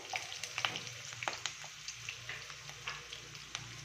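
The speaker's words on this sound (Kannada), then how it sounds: "ಈಗ ಹಸಿಮೆಣಸಿಕಾಯಿ, ಈಗ ಈರುಳ್ಳಿ ಹಾಕ್ಕೊತೀನಿ" Green chillies and onion sizzle steadily in a hot pan, a soft continuous fry with light scattered pops and occasional stirring taps, close and without talk.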